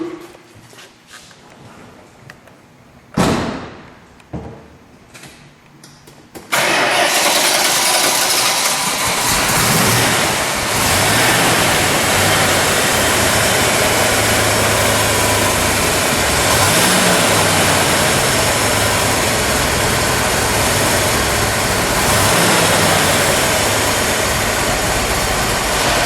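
A 1970 Dodge Challenger R/T convertible with a 440 V8 cranks after a few quiet knocks, catches with a burst and settles into a loud, steady, close idle rumble.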